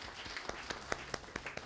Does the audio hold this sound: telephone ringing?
no